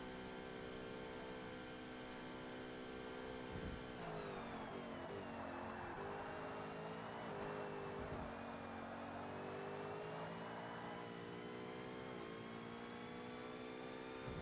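Class R-P1 race cars in Forza Motorsport scream at high revs, a steady loud engine drone with gear-shift dips and pitch sweeps as the cars speed along, with no talking.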